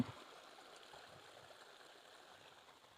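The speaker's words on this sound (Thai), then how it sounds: "บรรยากาศ360องศาฟังเสียง น้ำไหล" Steady, gentle rush of flowing stream water, continuous and moderately close, with no voices.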